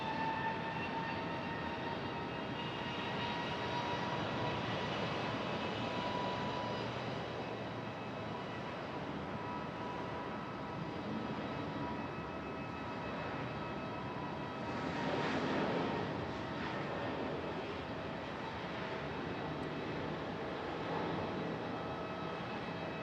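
An ATR turboprop in FedEx livery flies low maneuvers near Raleigh-Durham International Airport, giving a steady, loud engine drone with a tonal whine that swells briefly midway, heard outdoors without talk.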